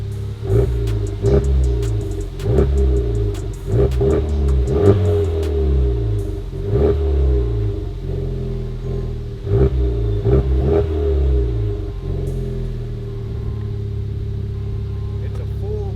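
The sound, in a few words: car with full catback exhaust and Bird Titanium tips idling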